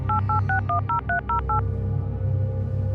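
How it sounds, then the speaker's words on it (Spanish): Keys are pressed on a landline telephone, producing a quick run of about eight crisp DTMF dial tones, evenly spaced, followed by quiet line hiss. "Cada vez que marcaba una tecla,"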